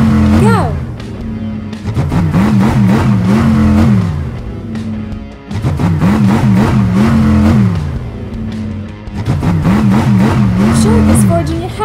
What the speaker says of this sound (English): The monster trucks are ready to start.